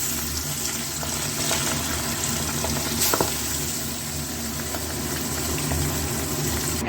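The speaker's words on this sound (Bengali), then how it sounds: "মাছগুলো এক এক করে ভেজে নেব।" Pabda fish frying one by one in hot oil, a steady, close, even sizzle with a brief sharper crackle partway through and no talking.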